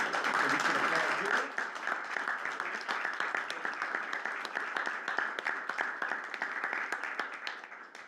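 At a school board meeting, an audience applauds the families of students as they stand. A voice speaks briefly first, then moderate crowd clapping runs steadily to the end.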